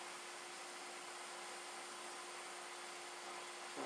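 A small 1/8 inch drill bit spins in a chuck with a steady, high, even whine that holds unchanged throughout, close and continuous without talk.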